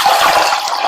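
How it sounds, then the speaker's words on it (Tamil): Water splashes and pours steadily into a pan of green peas, a loud close gushing sound lasting about a second. "முங்குற அளவுக்கு தண்ணி சேர்த்திருக்கேன்"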